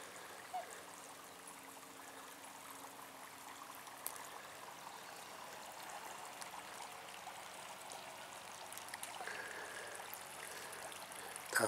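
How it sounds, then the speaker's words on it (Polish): Steady rush of splashing water from a fountain in Petrovice park, continuous and fairly quiet, with faint scattered drips and no talking. "Ale cisza, tylko wodę słychać."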